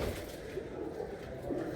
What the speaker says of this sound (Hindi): मेरे यहाँ पर ना कबूतर कुछ ज़्यादा ही हैं